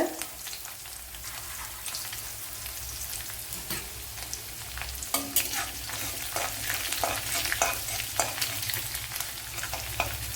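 Chopped shallots sizzle and crackle steadily in hot oil, with occasional stirring scrapes, close and continuous with no talking.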